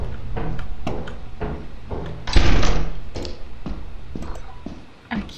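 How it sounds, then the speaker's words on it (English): A door opening in the horror co-op video game Lethal Company, a loud clunk near the middle amid a few softer knocks and thuds, with close game ambience around it. "I'll open that door"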